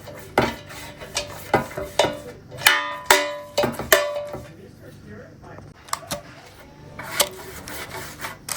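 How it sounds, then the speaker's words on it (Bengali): Pastry brush strokes spreading oil over baking paper lining a cake tin for a homemade fruit cake, heard as a series of close, scratchy brushing and rustling sounds with occasional light knocks against the metal tin. "এটা নিচে একটু ব্রাশ করে আবার পেপারটা বিছিয়ে আবার একটু ব্রাশ করবো"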